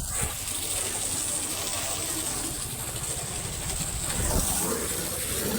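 Water gushes steadily onto the ground around a neem tree outdoors, a continuous splashing wash that carries on throughout, with faint voices in the background.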